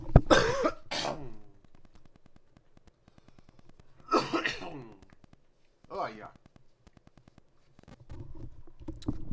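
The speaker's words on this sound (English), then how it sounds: "I'm gonna take a little cough here." A man coughs several times in harsh, separate bursts, loud and close, with pauses between them, while faint game sounds tick quietly in the background of a Factorio play session.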